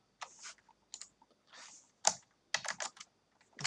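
Code is typed on a computer keyboard in quick clusters of crisp key clicks separated by short pauses, close by and moderately quiet, with no talk.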